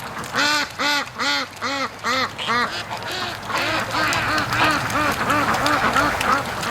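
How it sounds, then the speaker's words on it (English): Muscovy ducks call repeatedly near a lake on a free-range farm, a run of evenly spaced loud quacks and honks followed by a denser overlapping flurry of calls, with no talk. "Oh, there goes the Muscovy right now."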